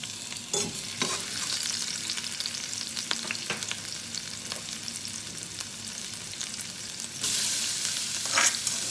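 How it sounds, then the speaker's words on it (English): Two teaspoons of chopped green chilies sizzle steadily in hot sesame oil, with occasional stirring clinks, and the frying swells louder near the end. "I've added 2 teaspoons of sesame oil, and now to that I'll be adding 2 teaspoons of chopped green chilies."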